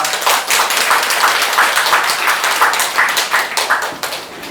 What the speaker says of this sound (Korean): 두 분께 박수 뜨거운 박수를 한번 부탁드립니다